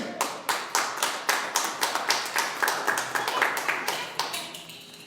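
Worshippers at a church service clap in a steady, rhythmic beat, roughly two claps a second, each sharp and distinct, fairly close and moderately loud, fading slightly toward the end, with faint voices beneath.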